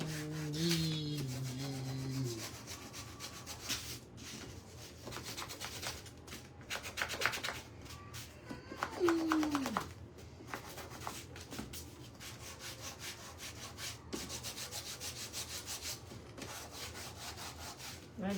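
A sanding block rubs over a wooden Christmas sign, working down into the crevices with steady back-and-forth scraping strokes up close, joined by a short tonal sound near the start and a brief rise partway through.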